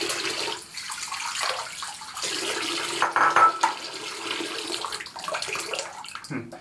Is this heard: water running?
yes